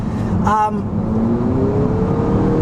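A 2021 Acura ILX A-Spec's VTEC engine revs toward its 7,000 RPM redline, a loud, steady rising whine heard from inside the car, with a short voice and chime near the start.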